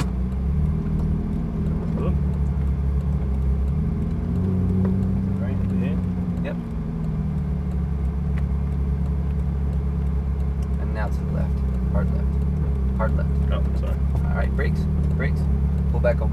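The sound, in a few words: Ferrari 458 car accelerating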